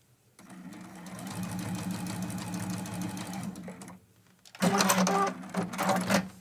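A sewing machine runs a basting stitch along a quilt block, with a steady buzzing whir for several seconds, a brief pause, then a louder, choppier burst of stitching close by.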